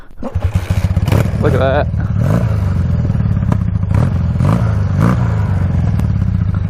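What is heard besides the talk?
Honda trike motorcycle engine idling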